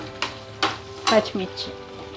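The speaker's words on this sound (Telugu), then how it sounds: "పచ్చిమిర్చి మరి ఎక్కువ వేయకూడదండి, కొంచెం లైట్గా వేగాలి." Green chilies frying lightly in a pan for tamarind pulihora, with a low steady sizzle and a few clinks and stirring scrapes of a utensil against the pan, close and fairly quiet.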